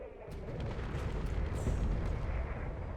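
Railgun volley fire and explosions in the Space Engineers video game: a dense, continuous roar of booming blasts and rumbling impacts, loud and sustained throughout with no speech.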